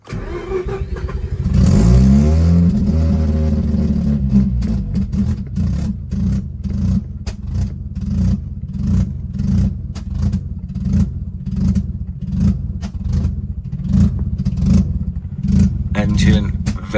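A rough, uneven engine of an abandoned RX8 revs up briefly, then settles into a lumpy, sputtering idle with repeated pulsing bursts, loud and close.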